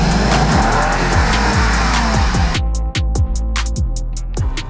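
A heavy Lexus LX 570 Sport in low-range four-wheel drive pushes through loose sand with a loud, close, continuous engine drone and a rapid train of rhythmic pulses from the tires churning.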